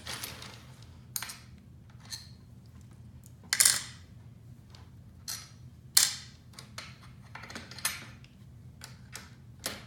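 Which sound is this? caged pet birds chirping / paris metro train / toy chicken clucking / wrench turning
wrench turning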